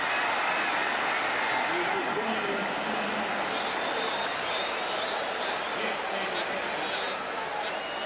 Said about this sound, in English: Crowd quiets down as they see Fouts get a lot of time to throw this football.